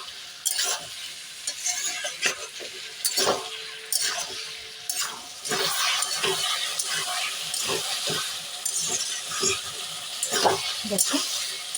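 Cucumber and prawns sizzle and fry in a pan for a Bengali village-style shosha chingri rasa, with a spatula repeatedly stirring and scraping through the mix in an irregular rhythm at close range, with no talking.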